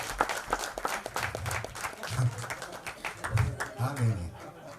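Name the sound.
audience applause at a trailer launch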